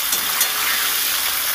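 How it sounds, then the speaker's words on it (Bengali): Catla fish pieces frying in hot oil, a steady close hiss and sizzle with a few faint crackles, unbroken and without speech. "এবার একটু নেড়ে চেড়ে ভেজে নেব"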